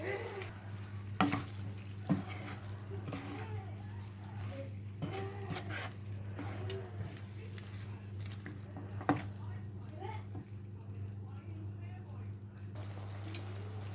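Sticky chicken sauce with soy sauce stirred in a frying pan over medium heat: a steady low sizzle broken by scattered utensil scrapes and clicks against the pan, fairly quiet.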